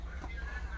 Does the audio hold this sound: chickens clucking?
yes